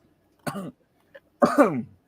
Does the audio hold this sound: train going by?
no